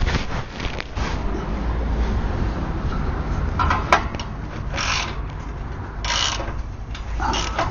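A ratchet wrench with a socket clicks through several short bursts of turning, fairly close, over a steady low mechanical background with no talk.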